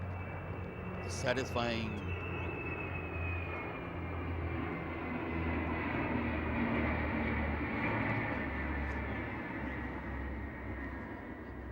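A large IL-78 aircraft flies overhead at the Republic Day Parade with a loud, sustained roaring drone that holds steady throughout, while a person speaks briefly near the start.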